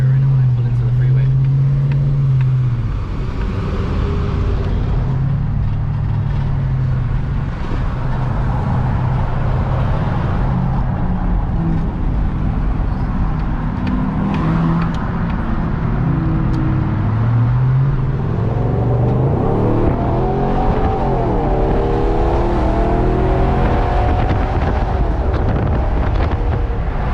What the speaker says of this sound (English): So you guys can hear it right now when I pull into the freeway.